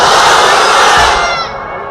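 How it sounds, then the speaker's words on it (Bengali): A large crowd at a Bangla Islamic sermon shouts the takbir together in one loud, close roar of voices that fades out after a second and a half. "তারা সকলেই আল্লাহর নামে তাকবীর দাও। লিল্লাহি তাকবীর।"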